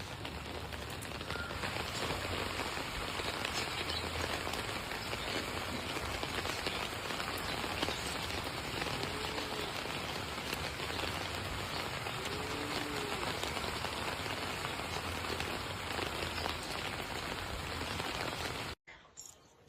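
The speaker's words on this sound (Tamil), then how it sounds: "மழை பாருங்கள் எப்படி பெய்யுதுன்னு" Heavy rain pours steadily on surfaces outdoors, a dense, constant hiss of drops that continues for nearly twenty seconds before abruptly cutting off.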